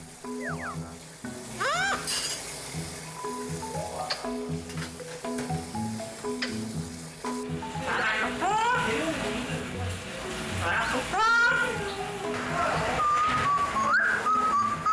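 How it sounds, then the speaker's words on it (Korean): A pet parrot whistles in a shop, with several rising and falling pitched whistles and chirps scattered over a sizzling background while people talk. "어머, 너 지금 휘파람 부는 거니?"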